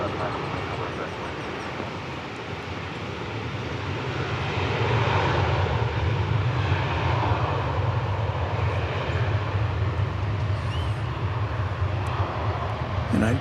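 An Embraer airplane at DFW Airport, its broad jet engine roar swelling louder partway through and holding steady, while people talk in the background.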